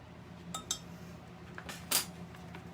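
A utensil stirs sprinkle mixture in a container, giving a few light clinks and scrapes, faint and close, with quiet gaps between them.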